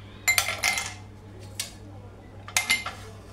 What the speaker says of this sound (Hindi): आइस क्यूब्स डालेंगे